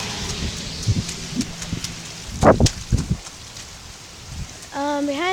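Rain falling outdoors beside a small stream, a steady wet hiss broken by scattered louder spatters and knocks near the microphone, with a brief tonal sound near the end.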